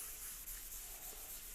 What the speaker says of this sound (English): I really like this dry sanding as opposed to wet sanding.